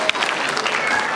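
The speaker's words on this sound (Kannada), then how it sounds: "ತಾವು ಕೂಡ ಹಾಗೆ ಚಪ್ಪಾಳೆಯ ಮೂಲಕ ಇದನ್ನು ಅನುಮೋದಿಸಬೇಕು" An audience at a Kannada cultural association event in Thane claps in approval as guests are honoured, with steady, dense applause close to the listener and a faint murmur of voices mixed in.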